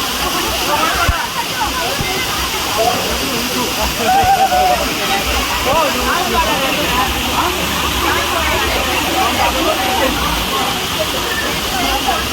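A waterfall roars steadily and loudly throughout, a dense broadband rush of falling and splashing water with voices mixed in beneath it.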